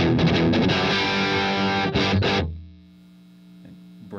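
An electric guitar through a FUCHS Mantis Jr. amp with its thrust control adjusted chugs out a tight, distorted riff with a firm low end, then stops and leaves a faint hum with a few quiet string noises.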